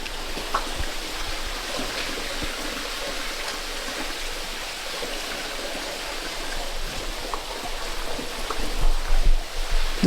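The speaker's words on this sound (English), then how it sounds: "Oh, there's so much water flowing." Water flowing steadily through an underground copper mine shaft, a continuous rushing hiss that swells slightly toward the end.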